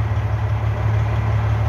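A Freightliner truck's slightly warmed-up engine idles close by, a loud, steady low rumble with an even throb that stays constant throughout.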